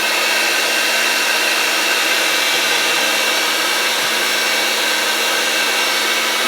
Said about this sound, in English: I got to turn the mixer back on, and you want to add the yolks in one at a time